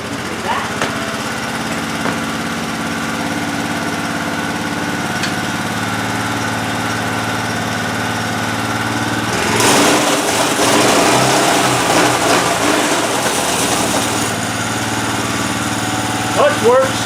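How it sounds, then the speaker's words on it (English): An old go-kart engine, long unused and coaxed with starter fluid, cranks and fires into a rough, buzzing run partway through, with a steady mechanical drone beforehand and people talking throughout. "Young man's go-kart set for 150 years. Will it start?"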